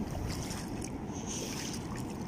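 Waves hitting the shore at a beach resort in Bulinao: a faint, steady wash of surf and wind with no distinct breaks, distant and soft throughout, no talking.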